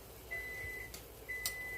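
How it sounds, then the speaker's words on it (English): A kitchen timer goes off during taco cooking, giving two steady, long electronic beeps separated by a pause, faint against a noisy room background. "there goes my timer."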